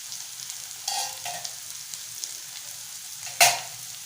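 Boiled potato pieces stir-fried in a pan into a spicy dry bhaji, giving a low, steady sizzle with a few soft scrapes and one sharp clatter near the end.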